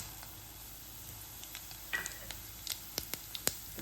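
Fennel and cumin seeds splutter in hot oil alongside cinnamon, a faint soft sizzle broken by scattered sharp pops that grow more frequent toward the end.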